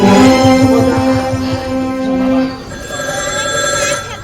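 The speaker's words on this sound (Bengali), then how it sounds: "দাঁড়াবো, ফোনটা ধরে নি।" A telephone bell rings loudly during a Bengali jatra stage play, a repeated electronic trill pattern that changes to a steadier tone partway through, with faint background sound.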